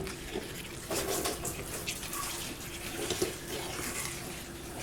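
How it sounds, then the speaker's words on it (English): A mixing bowl from a homemade chocolate cake is rinsed under a kitchen sink tap, with water running steadily and splashing as the bowl is moved about, fairly close and continuous throughout. "I'm going to put that in the sink and rinse it out."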